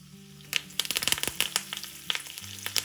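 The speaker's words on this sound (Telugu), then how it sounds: "ఇప్పుడు దీనిలో కరివేపాకు వేసుకుందాం." Curry leaves dropped into hot tempering oil crackle and spit, a rapid burst of sharp pops over a sizzling background, close and fairly loud.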